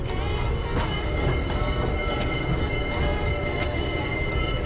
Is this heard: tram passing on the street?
yes